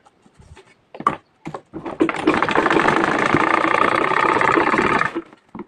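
A sewing machine stitches a zip onto a handbag, starting with a few short bursts, then running in a loud, continuous, fast whir for about three seconds before stopping.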